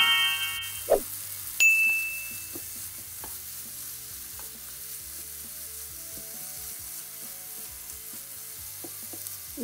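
Mutton liver frying with coconut and shallots gives a soft, steady sizzle throughout, broken near the start by a few sharp metallic clinks and a ding from utensils against the pan.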